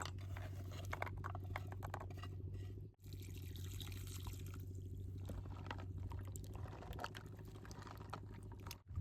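Raw jackfruit seeds being washed by hand in water, a soft steady patter and slosh of liquid with brief drips, close and quiet, broken by one short pause and no talking.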